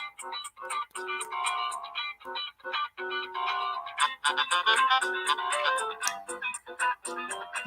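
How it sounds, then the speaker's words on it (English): A phone alarm rings continuously, a bright repeating electronic melody with ticking beats, loud and close, playing on without pause and with no talking. "Oh, my phone and its mini moods. It won't let me turn off my alarm."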